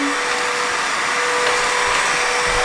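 A Redkey W12 wet-and-dry vacuum that also washes floors runs with a loud, steady motor whine and airy hiss, close and continuous without voices.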